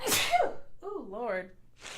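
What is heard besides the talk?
sneeze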